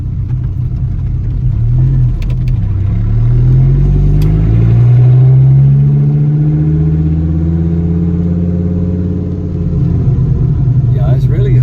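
A 1993 Dodge Viper RT/10 rumbles loudly while driving, its engine pitch climbing as it accelerates, easing off, then steadying. People talk over the close, deep engine noise.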